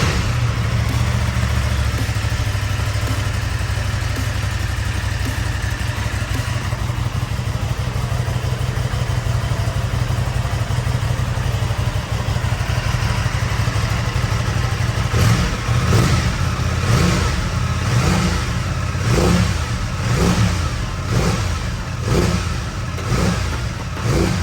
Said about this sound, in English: let's hear how the bike sounds stock.